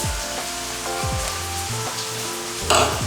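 Meatballs simmering in a pan for linguine, a steady close sizzle and bubbling with a low hum beneath and a brief louder burst of spatter near the end.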